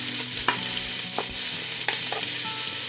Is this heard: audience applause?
no